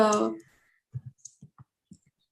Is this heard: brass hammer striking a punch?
no